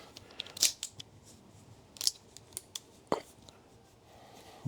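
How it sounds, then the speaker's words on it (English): Scissors snip through tubeless rim tape in a few short, quiet cuts, then a sharper snip near the end, close by in a quiet room. "Cut that and see how well it sticks to itself."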